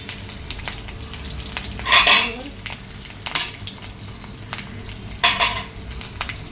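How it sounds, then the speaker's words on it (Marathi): Mustard seeds, dried red chillies and whole spices crackle and sizzle in hot oil in a pan, a steady frying hiss broken by a few sharp bursts of popping and spattering, close and fairly loud. "मोहरी छान तडतडते"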